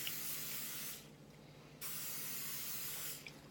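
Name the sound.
spraying cooking spray onto non-stick pans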